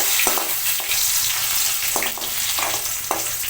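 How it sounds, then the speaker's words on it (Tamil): Dried red chillies and garlic fry steadily in hot oil in a pan for a South Indian chutney, giving a continuous close sizzle with a few brief stirring scrapes and no talk. "நம்ம எடுத்து வச்சுருக்க இந்த மிளகாய் அதில் சேர்த்து நல்லா வறுத்துக்கிறோம்."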